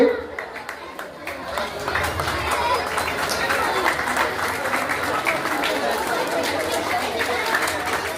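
An audience at a gathering claps in a sustained, even patter of many hands, mid-distance, with crowd chatter mixed in throughout.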